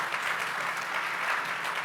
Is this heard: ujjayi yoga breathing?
no